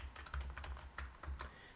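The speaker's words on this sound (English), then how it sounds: "then type your file name" Fingers type on a computer keyboard to enter a command and file name in a terminal. A quick, uneven run of key clicks comes from close by and quietly, with no talk.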